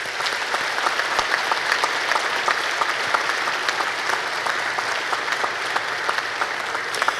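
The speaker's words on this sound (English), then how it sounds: "Let's give these young leaders a round of applause." A ceremony audience applauds steadily throughout, a dense even wash of clapping from many hands with no voices standing out.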